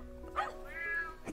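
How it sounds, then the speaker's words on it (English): A cat meows once, a clear rising-and-falling cry, close by and alone. "cat,"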